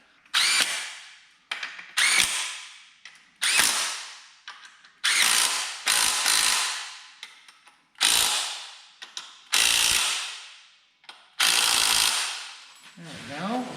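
A ratchet wrench fits a compressor onto a 6.0 LS engine, a run of about nine quick bursts of rapid clicking ratchet strokes, each rising and cutting off, separated by brief pauses, close and fairly loud.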